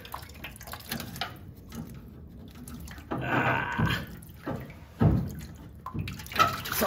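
Rusty water drains from the engine block of a 1974 AMC Javelin, heard up close as intermittent trickles and splashes with a few sharper gushes and drips, fairly quiet overall.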